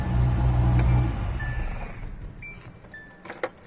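A Nissan Hardbody truck with a 400hp build idles with a deep steady rumble for about a second before the engine is shut off and the sound fades to quiet with a few faint clicks.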